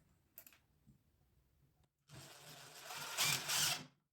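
A power drill drives an 8 cm screw, a thicker one, into a workpiece: a short whir near the start, a pause, then a steady loud grinding whine for about two seconds that swells toward the end before stopping abruptly.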